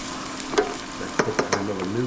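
Garlic sizzles in a pan alongside cherry tomatoes, a steady close frying hiss broken by several sharp scrapes and clinks of stirring, with brief speech toward the end.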